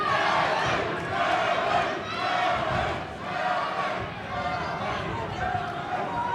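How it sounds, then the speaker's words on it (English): A crowd at a boxing match between Kevin Jernandez and Eddie De La Hurerta chants and shouts for Eddie in rising and falling waves, with a voice talking over the roar throughout. "Crowd calling for Eddie again."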